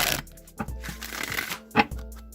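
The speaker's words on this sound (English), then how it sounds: "I'm just going to shuffle the Rider-Waite deck a few times" A Rider-Waite tarot deck is shuffled by hand: a few quick papery riffles and flicks in short bursts, close and fairly quiet, with no talking.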